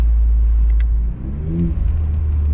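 A 2018 Ford Fusion Sport's aftermarket exhaust, heard from inside the car, rumbles loudly at idle, then rises briefly in a short rev before settling back into a deep, throbbing burble.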